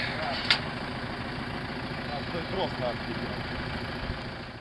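An MTZ tractor engine runs at a steady idle-like drone in a field during harrowing, with a continuous low rumble and no clear revving.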